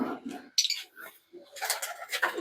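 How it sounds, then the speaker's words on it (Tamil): Pigeons at a zoo animal park near Pudukkottai give low, soft coos in short bursts, closely mixed with chirps and rustling from nearby birds, the flock sounding close and moderately loud. "இங்கே பாருங்க புறா"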